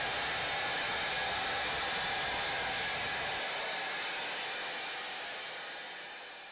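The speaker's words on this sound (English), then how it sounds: "And whenever I'm done blow drying and getting that heat style in, I go ahead and hit the cool button." Hair dryer switched to the cool-shot setting while blow-drying hair with a round brush, a steady broadband airy whoosh that holds throughout and eases slightly toward the end.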